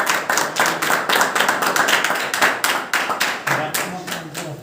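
An audience claps in welcome of guests at a devotional celebration, a brisk burst of many hands that holds steady for a few seconds before thinning slightly.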